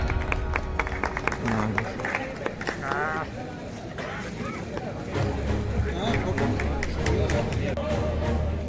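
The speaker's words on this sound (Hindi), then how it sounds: "इसलिए सुधीर जी के लिए एक बार जोरदार तालियों से मनोबल को आगे बढ़ाए।" Audience applause at a student-organised celebration in a polytechnic hostel hall, a busy spread of clapping mixed with crowd noise, and a voice speaking over it in places.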